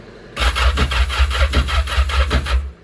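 A Yamaha GP1800R personal watercraft engine cranks over with a steady, rapid rhythmic chugging for a couple of seconds, close and fairly loud, then cuts off.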